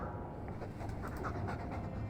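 A Mabari war dog in Dragon Age II pants steadily in quick, rhythmic breaths, close and fairly quiet with no talking over it.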